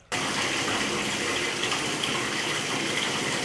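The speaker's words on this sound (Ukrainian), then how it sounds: "В одній із квартир набираємо воду до ванної." Rusty orange tap water gushes into an apartment bathtub, a loud, steady rushing stream that starts abruptly after a brief moment of quiet and runs on alone.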